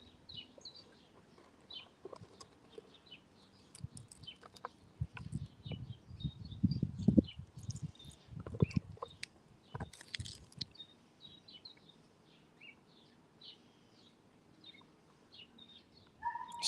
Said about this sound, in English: So many birds out today.